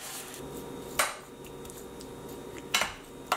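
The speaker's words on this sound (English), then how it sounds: "I have to flatten the top of my tuna casserole here" A utensil presses breadcrumb topping flat on a tuna casserole in a baking dish, with a soft steady scrape and three sharp clinks against the dish, close and without talk.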